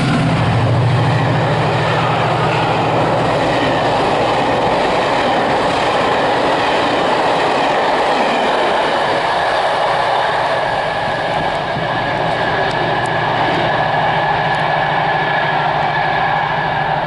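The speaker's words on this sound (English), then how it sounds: "The next train at platform 1 does not stop here." A non-stopping train rumbles through a station platform, a loud continuous roar with rolling wheel noise and a low engine drone that holds steady, then eases slightly toward the end.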